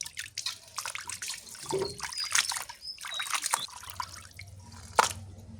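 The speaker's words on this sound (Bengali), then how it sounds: "মাংসগুলো আবার ধুয়ে নিয়ে ভালো করে" Tap water splashes and drips over raw mutton pieces being rinsed, an irregular close trickle with small splashes and clinks throughout, no talk.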